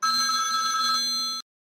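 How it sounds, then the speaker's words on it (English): A telephone rings with a bright, steady electronic ring tone, loud and close, sounding continuously for over a second before cutting off abruptly into silence. "And that's my phone ringing."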